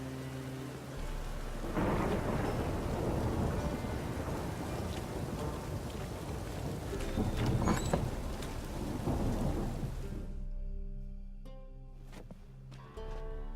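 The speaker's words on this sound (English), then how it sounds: "A storm, damn it." A thunderstorm rolls through The Witcher 3, long deep rumbling thunder with steady rain and some wind for about ten seconds, then the storm cuts out abruptly into quieter game ambience with faint tonal sounds.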